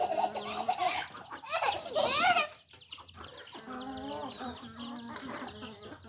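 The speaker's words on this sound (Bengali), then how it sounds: "দেখেন মুরগিটাকে কীভাবে ধরছে।" A chicken clucks and squawks in agitated bursts close by as it is caught, the calls loudest early on, then settling into softer clucking, with rain falling outdoors at a rural home.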